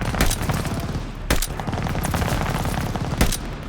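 A weapon fires in Call of Duty: Vanguard in repeated close, loud bursts, with sharp louder shots standing out from steady background clatter and no voices.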